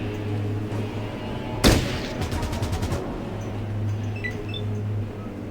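In Fallout Tactics, a sharp loud shot cracks out, followed by a quick rhythmic burst of about eight rounds, then a low steady hum resumes.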